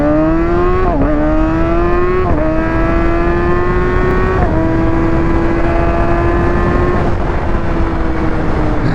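A pre-owned Kawasaki Ninja ZX-6R inline-four supersport with about 2,600 miles rides on an open road, its high-pitched engine wailing loudly and climbing through several quick upshifts, each marked by a brief dip in pitch before it rises again.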